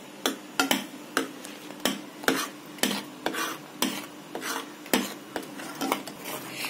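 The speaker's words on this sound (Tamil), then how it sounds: "பால் நல்லா கட்டியாகிற வரைக்கும் நல்லா கிண்டிட்டே இருங்க" Milk thickening in a pot is stirred with a utensil that scrapes and taps the metal in a steady, regular rhythm, close and fairly quiet, with no voices.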